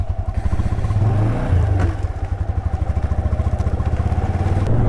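A Yamaha R15 motorcycle on the move, its steady engine drone throbbing with a rapid, regular pulse that swells briefly midway, close and loud throughout with no voices.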